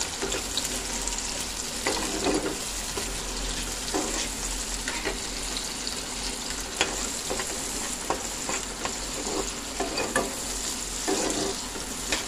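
Onion, garlic, green chili and tomato bits fry in an oiled pan with a steady loud sizzle, punctuated by repeated scraping stirs at irregular intervals, no talk.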